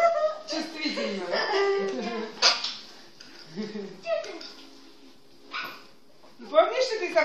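A small dog yips, barks and whimpers in short, uneven bursts nearby, with voices talking in between.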